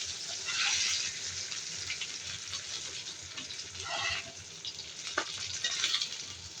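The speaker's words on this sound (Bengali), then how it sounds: "টমেটোটাও দিয়ে দিলাম, টমেটোটা আমি ভেজে নেব তেলের মধ্যে।" Tomatoes frying in oil in a pan just used to fry fish, for a fish bhuna with potatoes, sizzle steadily and up close, with short bursts of stirring and no talking.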